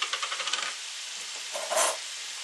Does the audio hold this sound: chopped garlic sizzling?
yes